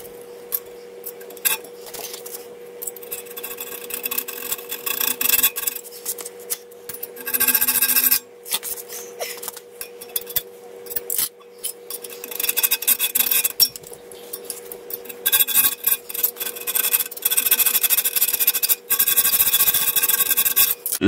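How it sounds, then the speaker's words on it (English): A hacksaw cuts through the metal exhaust of a Ninja 400 motorcycle in long, rasping back-and-forth strokes, loud and close, with brief pauses between bursts of sawing. "time to grab the hacksaw"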